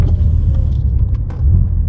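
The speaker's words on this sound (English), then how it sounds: "And the burbles that you get," A 2019 BMW M2 Competition's exhaust burbles and rumbles deeply from close range, a loud low throbbing with a few uneven pops, alone without voices.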